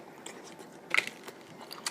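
A quiet bite into reheated snow crab seasoned with Old Bay and dipped in butter, with a short crunch near the middle and soft chewing clicks around it.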